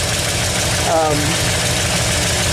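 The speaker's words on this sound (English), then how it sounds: "there's an exhaust leak on this manifold over here" Chevrolet El Camino engine idling with a leaking exhaust manifold, a loud close steady rhythmic chugging throb, a voice briefly speaking over it.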